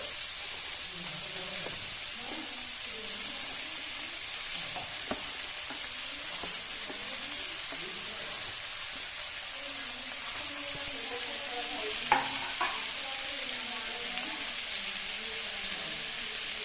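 Onions fry with a steady, even sizzle for Maggi noodles, broken by occasional scraping and clinking stirs of a spoon in the pan.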